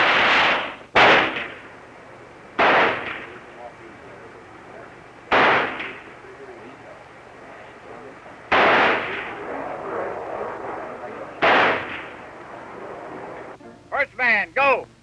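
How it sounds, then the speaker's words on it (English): Carbine fire on a military qualification firing range: about six loud, sharp shots at irregular intervals, each with a booming, reverberant tail, followed by a quick cluster of fainter cracks at the end. "I got a great kick out of qualifying with the carbine."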